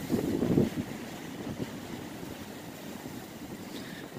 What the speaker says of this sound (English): it's really windy. Terrible weather.